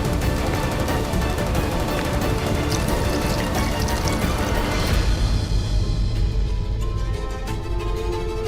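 Water is poured onto a small household fire, a steady splashing, gushing stream that runs loud and continuous before thinning into a quieter trickle near the end.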